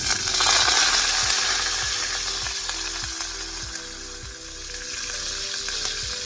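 Dry red chillies and fresh curry leaves crackle and sizzle loudly in hot tempering oil with cumin, a dense steady frying hiss with faint stirring clicks.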